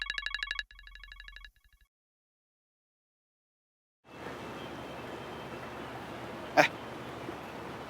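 A phone rings in two quick electronic bursts, then silence, followed by a steady wash of background noise with one sharp click.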